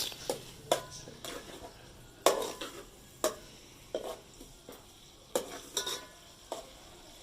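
Sliced onions and cumin seeds fry in a pan for a potato and pea curry, a soft steady sizzle broken by repeated scraping clinks of a spoon stirring against the metal.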